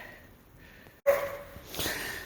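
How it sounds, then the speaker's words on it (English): Excited puppies in a snowed-in kennel let out a sudden close bark after a brief quiet, followed by yipping, breathing and sniffing noises of moderate loudness. "I want you to hear the puppies. All excited for us to come in and take them for a walk."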